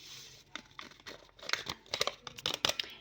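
A paper vanilla sachet torn open and shaken over cracked eggs, a run of close, quiet crinkles and sharp tearing crackles in irregular bursts.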